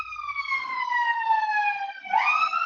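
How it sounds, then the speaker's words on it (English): An ambulance siren passes along a city avenue, loud and clear, holding a steady falling wail before jumping back up into a new sweep. "do you hear the siren too?"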